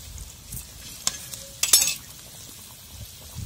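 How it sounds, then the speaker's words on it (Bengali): Pieces of fried rohu fish slipping into bubbling curry made with dried mango: a soft clink, then a short sizzling splash, over a low, steady kitchen background. "ঝোল ফুটে উঠছে, মাছ ভাজা এবার দিয়ে দিবা ঝোলে"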